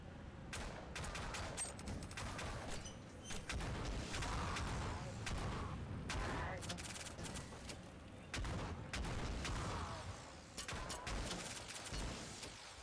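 Shotgun blasts in a wave-based co-op video game, repeated irregular booming shots at a steady loud level throughout, with a voice briefly heard.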